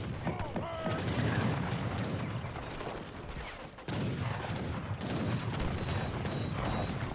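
Rattling musket and cannon fire pounds a fort in an Age of Empires battle, a dense continuous fusillade at moderate distance with a brief lull midway before the volleys resume.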